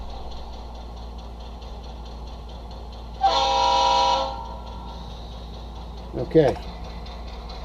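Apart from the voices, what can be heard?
locomotive sound from sound decoder played through iPhone 6S Plus speaker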